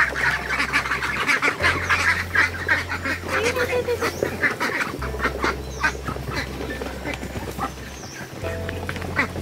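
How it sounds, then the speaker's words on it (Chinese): Ducks in a farm pen quack and honk repeatedly while being fed, a close, busy chorus of overlapping calls over a low steady hum. "然后他来到鸭圈，给小鸭子们喂上一些食物"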